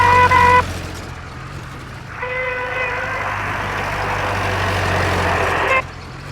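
A bus in an old Bengali movie scene with Uttam Kumar drives and overtakes on a road: a low engine drone runs throughout, and loud tonal horn blasts sound at the start and again for several seconds in the middle.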